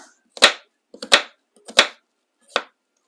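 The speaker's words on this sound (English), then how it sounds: "to finely chop your onion, first of all, cut it in half." A knife chops a peeled onion, halved, on a cutting board for a shepherd's pie, four sharp, crisp cuts with short pauses between them, close and distinct with no talking.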